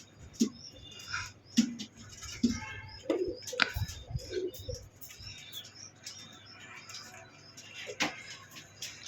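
Pigeons coo and chirp in soft, scattered bursts while being handled for leg ringing, with occasional wing flutters and handling noises close by.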